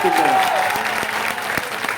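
A crowd at a workers' protest sit-in claps together, brisk and fairly loud applause heard close, continuing steadily for the whole moment.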